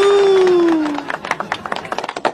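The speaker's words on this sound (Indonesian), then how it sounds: "Tepuk tangan buat Tasya." Audience clapping for Tasya after a church-friends talk session, starting as a sustained tone fades, then a loose patter of claps that grows more distinct and uneven over a couple of seconds.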